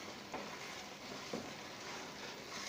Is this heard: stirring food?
yes